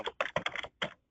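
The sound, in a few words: computer keyboard typing in background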